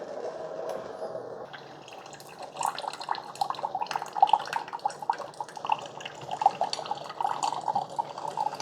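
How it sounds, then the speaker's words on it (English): A Keurig K-Express Essentials brews through a reusable stainless steel pod. A quiet pump hum leads into a fairly faint run of trickling and dripping coffee that keeps going steadily. "We close this, and I do an 8-ounce brew."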